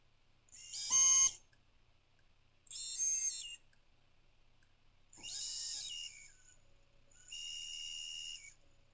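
Four separate high-pitched whirring bursts from the motors of an EMAX Babyhawk R 2-inch micro drone, each lasting about a second and spaced by short silences, spinning up and down one after another; one motor sounds slightly rougher.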